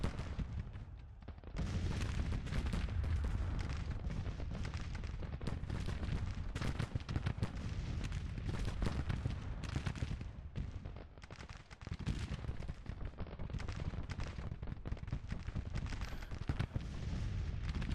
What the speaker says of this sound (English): they brought Gatling guns